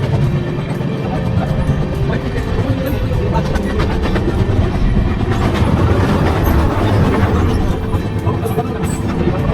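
Steel Express passenger train held at the outer signal near Kharagpur Junction, by a wagon repair depot: a steady, loud rolling rumble with faint wheel clatter running throughout.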